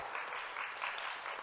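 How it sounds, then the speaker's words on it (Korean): A crowd at a public forum with Korea's unification minister claps steadily, a dense wash of applause that holds at an even level throughout. "박수 한번 뜨겁게 보내주시면 감사하겠습니다"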